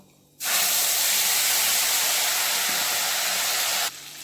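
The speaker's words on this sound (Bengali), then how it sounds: "এবার টমেটো আর কাঁচা লঙ্কাটা আগে তেলে ছেড়ে দেবো" Tomatoes and green chillies dropped into hot oil for Bengali shorshe ilish, a sudden loud hiss that bursts in, holds steady and close, then cuts off sharply.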